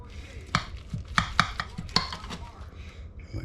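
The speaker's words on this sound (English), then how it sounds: "We'll cut it into 4 squares. That is a crispy topping." A chicken casserole with a crispy topping being cut into squares in its dish, a run of sharp knocks and crunchy scrapes from a utensil against the pan, close and irregular, with no speech.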